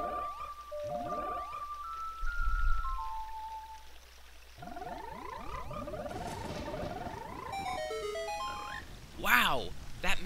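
Ocarina melody from Zelda: Ocarina of Time, a run of clear descending and rising tones with game sound effects and a short burst near the end, played fairly loud over a faint rain-like background hiss.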